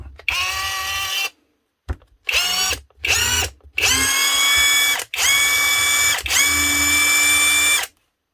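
A knock-off Milwaukee impact wrench runs in several bursts, a loud high whine with rapid hammering, first short triggers and then two longer runs, close and with no talk over it.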